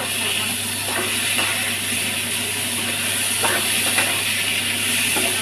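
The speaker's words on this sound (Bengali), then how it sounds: "কচু আলুটা ভাজাটা হয়ে গেছে, এবার মশলা পেঁয়াজটা দিয়ে একটু নাড়াচাড়া করে নেবো" Spices and onion fry with taro and potatoes in a pan, a constant loud hiss with a few soft stirring scrapes scattered through.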